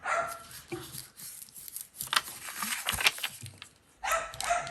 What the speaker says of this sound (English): if the dogs get too loud at any point, I'll just pause the video